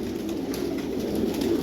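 Pigeons in an enclosed pigeon farm house coo in soft, throaty, repeated calls that overlap continuously at close range, with no talking.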